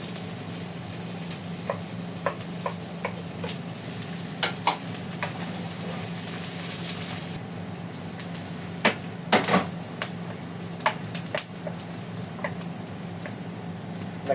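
Onion and garlic sauté in a pan for Filipino adobong pusit, giving a steady, moderate sizzle. Scattered clicks and taps from stirring sound over the frying.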